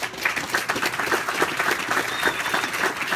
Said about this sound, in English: I'm warming up your applause until you get freaking rocking